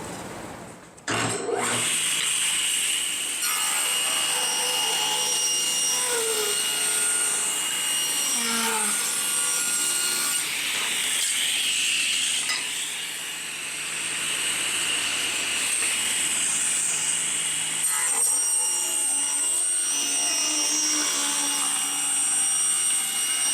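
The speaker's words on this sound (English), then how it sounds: "I'm gonna cut these boards down to 1 1/4 inches wide." A saw runs steadily while cutting wooden boards into narrow strips for a Dowelmax shelf jig, a loud, continuous whining roar that holds for over twenty seconds after a sharp start.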